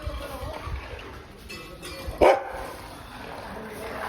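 A single short dog bark rings out at a middle distance over a low, noisy outdoor background on a farm in Surat.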